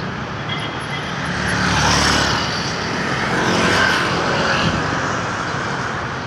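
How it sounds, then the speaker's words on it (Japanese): Steady roar of busy street traffic in Cebu City, Philippines, with motorbike engines swelling and fading as they pass nearby, continuous and fairly loud. "バイクばっかりだよ"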